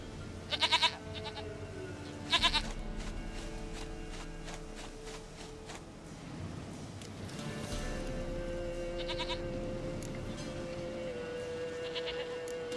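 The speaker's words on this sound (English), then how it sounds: "Goat of mine, dearest, sweetest goat." Goat bleats in the fantasy video game The Witcher 3: Wild Hunt, a few short, loud, wavering cries near the start and later, over a continuous game ambience with faint footsteps and no talking.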